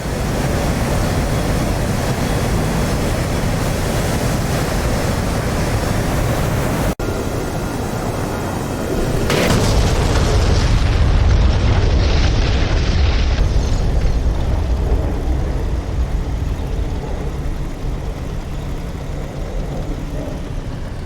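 Loud, heavy bomb explosions from an A-4E Skyhawk in DCS World roll into a sustained, roaring rumble that swells and lingers, dense and close, with no voices.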